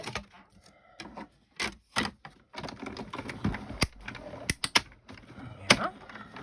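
Die-cutting machine cutting two die-cut pieces together for mounting, heard as irregular mechanical clicks, ratcheting knocks and sharp taps, close and moderately loud, with no speech.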